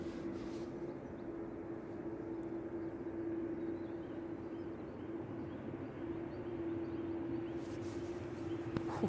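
A Ryanair airliner landing at Manchester Airport heard from a distance as a faint, steady broadband roar with a sustained tonal whine, lasting throughout without any talking.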